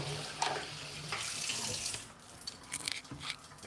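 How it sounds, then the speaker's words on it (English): Running tap water pours into a sink as something is rinsed under it, a steady close splashing rush with small shifts in flow and no talking. "I'll just rinse it"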